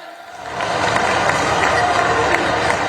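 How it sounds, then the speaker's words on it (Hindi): A crowd at a Prime Minister's rally in Jhabua claps and cheers, the applause swelling after half a second into a loud, dense, continuous roar. "सभी से आग्रह, जोरदार ताली बजाएं"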